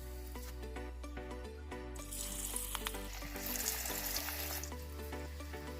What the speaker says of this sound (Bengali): মাঞ্চুরিয়ানের বলসগুলো তৈরি হয়ে গেছে। এখন আমি একে একে তেলে ছেড়ে দেবো।